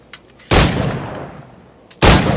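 Two loud, close gunshots about a second and a half apart from a flintlock-era firearm in Assassin's Creed IV Black Flag, each a sharp blast with a decaying boom.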